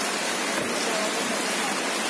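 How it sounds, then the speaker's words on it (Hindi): Heavy rain pours down in Muscat, Oman, a dense, even hiss of downpour that stays loud and unbroken from start to finish. "बहुत तेज बारिश हो रही है"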